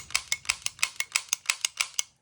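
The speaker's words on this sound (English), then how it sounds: "the sound of the sear separating from the disconnector on the trigger and re-engaging." Crisp, evenly spaced mechanical clicks from the sear and disconnector of a Suomi KP31 trigger pack in a Stemple SMG, about a dozen sharp metallic snaps in steady rhythm, close and quiet with nothing else audible.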